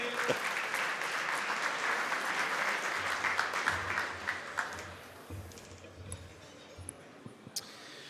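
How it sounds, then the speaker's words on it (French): Guests at a business luncheon in Quebec applaud an introduced speaker: full, busy clapping for about five seconds, then thinning out to a few scattered, isolated claps and small knocks in a quieter room. "Oui, on peut applaudir."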